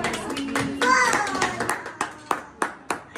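Hands clap in a steady run of sharp, close claps, with a short burst of voices at the start before the claps carry on alone at an even rhythm.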